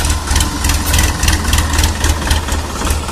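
A tractor engine idles steadily on a farm outing, a loud, continuous low throbbing rumble with a dense mechanical clatter on top, close by and unbroken throughout.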